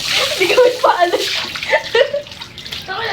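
Water runs steadily from a tap into a bath while someone bathes, a close splashing rush that continues under a person talking.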